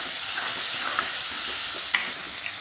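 Garlic and green chili frying in a pan for Coimbatore-style arisi paruppu sadam, a loud, even bright hiss with a single sharp spatula clink near the end.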